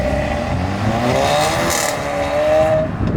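A BMW E36 with a four-cylinder engine revs steadily, its rising and falling engine tone sustained and fairly loud throughout, with no voices over it.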